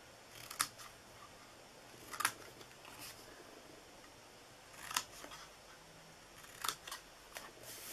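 Scissors cut out a paper treat box template in several separate crisp snips spaced a second or two apart, close but quiet, with no voices.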